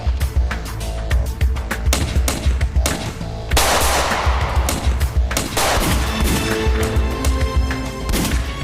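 Rapid gunfire in a TV drama sniper shootout, dense bursts of loud close shots and automatic fire cracking almost continuously with echoing booms, no talking.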